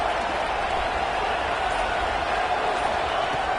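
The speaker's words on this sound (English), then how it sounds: "Listen to the crowd energy here in the early going." Stadium crowd noise during a Rice at ECU college football game in CFB 26 forms a constant, dense roar with no distinct peaks, steady and loud throughout.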